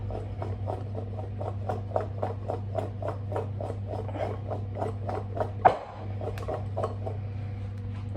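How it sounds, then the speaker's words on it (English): Food rattles in a container being shaken in a steady rhythm of quick rustling strokes, with a brief knock partway through over a low hum. "I'll just give these a little shake."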